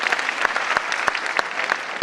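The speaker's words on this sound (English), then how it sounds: "Guys, give it up for Manish." Audience at a talk event in Jaipur clapping for a volunteer on stage, a dense, steady burst of many hands close by, loud and even throughout with no speech over it.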